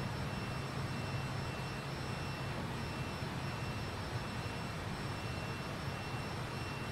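Fokker F28 jet engines in a flight simulator, a steady broadband roar with a constant high whine, holding level at altitude and filling the whole stretch without pause or talk.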